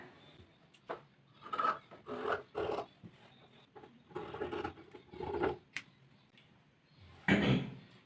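Scissors cut chudithar fabric in a round shape, giving a series of faint, close crisp snips and rasping slices in irregular bursts with short quiet gaps.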